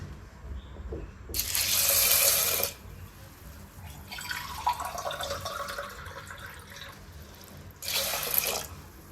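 Sago pearls are rinsed under a running kitchen tap: two loud gushing spells of water into a bowl, separated by quieter trickling and dripping, with no speech.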